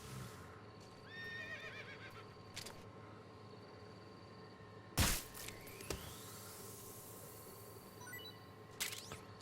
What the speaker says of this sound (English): Is that a horse in the jungle? Seriously?